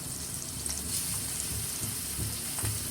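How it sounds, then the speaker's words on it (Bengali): Fish goes into hot oil and fries with a constant hissing sizzle and light crackle, up close and fairly quiet, with no talking. "আবার ওই তেলের মধ্যে মাছ দিয়ে দিব,"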